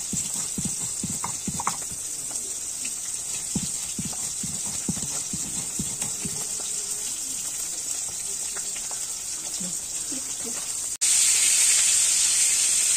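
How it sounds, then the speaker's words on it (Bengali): Ginger and cumin ground into paste by hand, a steady run of rhythmic knocking and scraping strokes close by over a constant background hiss, which jumps suddenly louder near the end. "বেটে নিচ্ছি আদা জিরেটা।"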